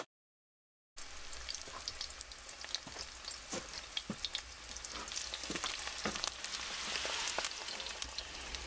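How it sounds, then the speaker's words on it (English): Eggs and bacon sizzle in a pan inside a canvas hot tent during a -20°C winter snowstorm, a steady close crackle with sharp pops, starting after a second of silence. "Eggs and bacon cooked to perfection."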